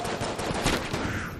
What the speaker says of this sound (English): The Gatling gun, Rapid Fire Raptor.